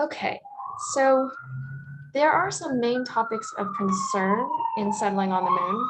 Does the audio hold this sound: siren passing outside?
yes